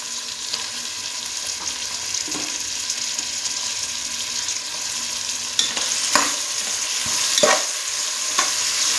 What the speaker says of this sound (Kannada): ಇದು ಚೆನ್ನಾಗಿ ಫ್ರೈ ಆಗಬೇಕು ಟೊಮೊಟೊ ಅಂತ